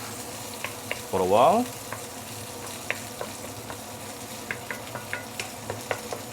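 Sichuan peppercorns sautéing in a pan make a low frying hiss, with a short burst of louder clatter near the start and scattered light ticks and scrapes after it. A voice talks briefly over the sizzle.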